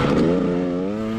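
Motorcycle engine droning steadily at around 40 km/h on a cold, windy group ride, a close, continuous hum with a slight pitch drift, wind rushing over it, no talk.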